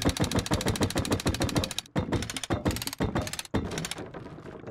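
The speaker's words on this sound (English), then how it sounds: "If you destroy this one, the stash will fall in front of you." In the video game Rust, a stash drops loose after the base piece holding it is destroyed, heard as a dense run of loud, rapid mechanical thunks and rattling clatter that breaks into several bursts with brief gaps.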